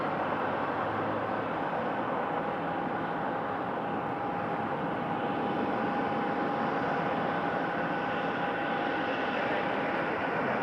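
Delta SkyWest airliner going around at Raleigh-Durham airport, a steady distant roar of jet engines with a faint sustained whine, constant and unbroken against open outdoor air.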